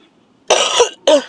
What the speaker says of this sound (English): I'm going to start naming this cough.